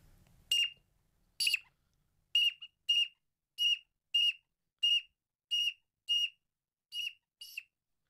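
A whistle blown in short, sharp blasts, about eleven of them spaced roughly evenly, shrill and clear against near silence.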